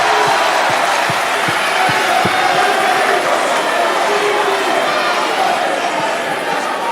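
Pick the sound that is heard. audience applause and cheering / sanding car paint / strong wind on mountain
audience applause and cheering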